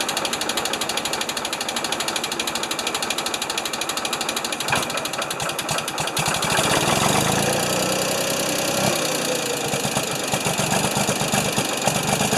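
An old Ford 2600 tractor cranks with a rapid, ratcheting starter clatter for several seconds, then the engine catches and settles into a loud, steady, knocking idle.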